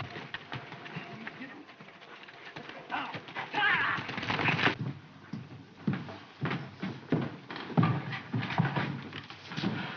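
Horses are ridden away at a trot, the clip-clop of hooves on hard ground pattering rhythmically and fairly close, with a horse whinny and some movement noises over old film audio.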